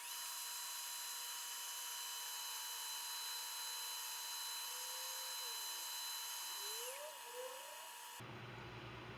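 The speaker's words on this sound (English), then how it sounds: "now we'll buff off the excess." A power buffer whines steadily at high pitch while buffing a walnut wood beer mug, with the tone dipping and rising briefly under load before it cuts off abruptly near the end.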